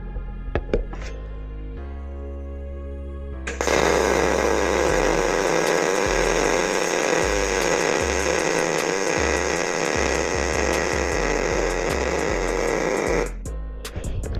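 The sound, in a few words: MIG welding with Miller Multimatic 215 Pro welder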